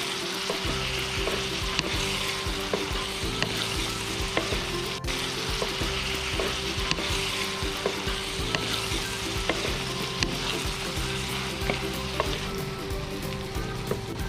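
Shrimp fry in butter and garlic with Sprite while being stirred in the pan, a steady close sizzle and bubbling with light scraping clicks throughout.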